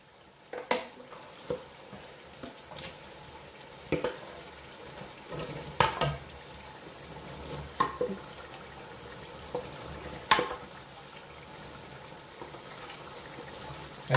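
Boiled chickpeas tipped into a simmering pot for Lahori chikar cholay, with bubbling, sizzling and spoon-stirring scrapes throughout and several sharp clinks and knocks against the pot.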